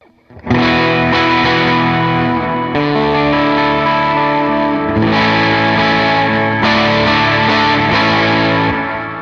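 Electric guitar starting clean then switching on a Helix effect patch midway, playing sustained chords that turn brighter and distorted with chorus shimmer, loud and close, no voices.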